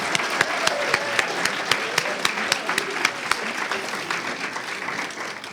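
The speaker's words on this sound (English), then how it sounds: "Let's give them a round of applause." A large event audience breaks into sustained, dense applause at an alumni anniversary gathering, loud and steady throughout with sharp individual claps standing out.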